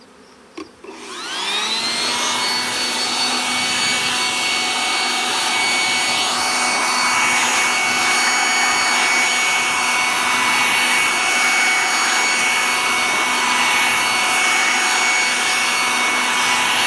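A bee blower starts up near a hive and runs as a loud, steady motor whine and airflow roar, blowing bees off the frames, with a faint insect buzz mixed in and no talking.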